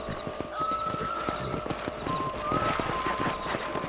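Horse hooves clip-clop steadily on the ground in the Red Dead Redemption video game, a rhythmic run of close, distinct hoofbeats over a soft outdoor ambience with faint tonal music.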